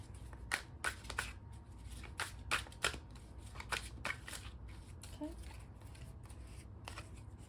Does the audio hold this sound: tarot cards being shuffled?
yes